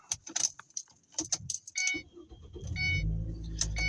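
Keys jangle in a car, then a four-cylinder engine cranks and catches after its battery had been dead, settling into a steady low idle rumble that grows louder toward the end.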